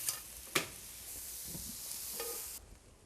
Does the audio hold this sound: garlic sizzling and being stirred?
yes